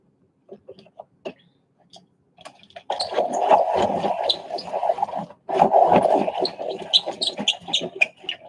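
A colouring pencil being sharpened, with short scraping turns at first, then longer gritty grinding strokes broken by a brief pause, close and fairly loud.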